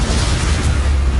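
A single sustained blast from a fiery spell in a Hogwarts-set video game: loud, dense, full-band roaring boom with heavy low rumble, filling the whole moment without a break.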